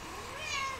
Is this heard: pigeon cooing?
no